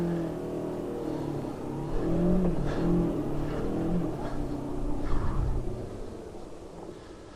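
A 1999 Honda CB 500 motorcycle accelerates up to about 50 km/h on a test track and then brakes hard, the engine note rising through the gears before easing off, heard close with some wind noise.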